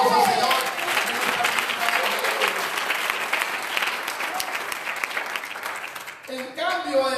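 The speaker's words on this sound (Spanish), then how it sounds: "Un aplauso al Señor." Dense, steady applause from a church congregation during a Spanish-language sermon, filling the room for several seconds before fading out as a voice starts speaking.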